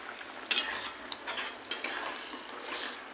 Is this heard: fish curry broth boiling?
yes